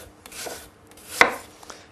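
A knife slicing apples into thin slices for a thin apple tart, a few soft cutting strokes on a board with one crisp, distinct chop in the middle, close and fairly quiet.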